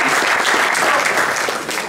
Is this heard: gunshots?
no